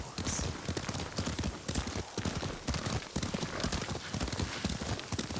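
Horse hooves clip-clop in a steady galloping rhythm while riding in Ghost of Tsushima, loud and close, with a game soundtrack and occasional voices underneath.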